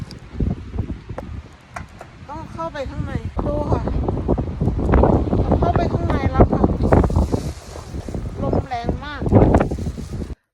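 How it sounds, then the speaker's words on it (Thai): Strong gusty wind buffets the microphone outdoors in Norway, a broad continuous roar running under a woman's close speech throughout. "ลมมันแรงมากตอนนี้"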